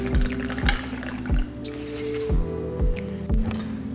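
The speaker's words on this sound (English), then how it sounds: "And we're gonna throw in some watermelon vodka." Watermelon vodka poured from a bottle into a cocktail glass, a series of rhythmic glugging gulps about every half second with rising liquid tone, close and clear.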